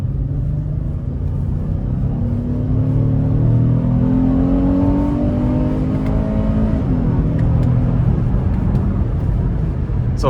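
Cabin view of a 2015 Acura MDX Tech Package with all-wheel drive accelerating hard up an interstate on-ramp: loud steady engine roar with rising revs through several snappy upshifts, plus road rumble throughout.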